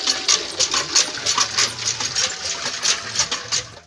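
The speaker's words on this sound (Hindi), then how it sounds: "ये पानी बाल्टी में भरा जा रहा है जी" Water pours into a bucket outdoors in a village kitchen setting, a close, continuous splashing and gurgling stream with fluctuating bursts as it fills.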